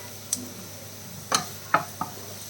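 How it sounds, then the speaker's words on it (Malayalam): Onions sautéing in a pan for mutton masala: a faint, steady sizzle broken by a few sparse scrapes of the stirring spoon, with no talking. "സവാള വഴട്ടിയെടുക്കണം"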